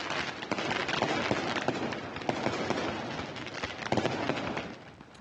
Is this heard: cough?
no